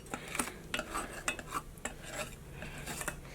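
Whipped egg whites folded into a bowl, faint close scraping and clinking of a utensil against the bowl in uneven strokes, with no talk.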